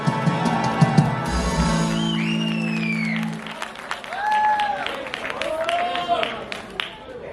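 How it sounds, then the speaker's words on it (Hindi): Audience at the Akhand Bharat Gaurav Award 2024 ceremony claps in a dense, steady wash of applause, mixed with whistle-like tones and a speaking voice over it. "A huge round of applause, my dear friends."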